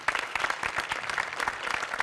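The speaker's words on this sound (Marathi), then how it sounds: "सचिन मोटे, अभिजित पवार दोघांसाठी प्रचंड टाळ्या." An audience at a live Marathi comedy show bursts into loud, dense applause that continues steadily throughout.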